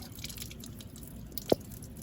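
Water trickles and drips from a garden hose reel caddy being checked for a leak, a faint, steady wet patter with one sharper drip standing out near the end.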